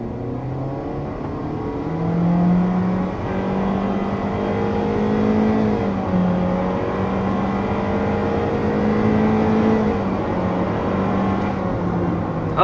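A 2024 compact SUV, either a Toyota Corolla Cross or Honda HR-V, accelerates from 0 to 60 mph up a slight hill, its engine droning steadily and rising in pitch with shifts, heard from inside the cabin.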